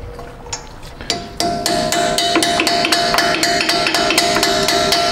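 A half-inch impact wrench spinning a stuck nut off in reverse on a Jeep Wrangler front axle, a rapid loud hammering rattle that kicks in after a second and keeps pounding steadily to the end.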